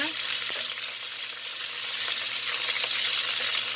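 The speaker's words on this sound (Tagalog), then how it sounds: "Pa-browning din na muna natin bago natin haonin" Pork pata browns in hot frying oil with a loud, dense, continuous sizzle and crackle close up, with a few faint utensil taps.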